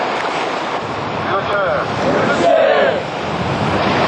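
Sea waves washing in the dark at 2 a.m. as Marine Corps reconnaissance hell-week training begins in the ocean, a steady broadband surf wash with wind buffeting, continuous and fairly loud, with some voices blending in.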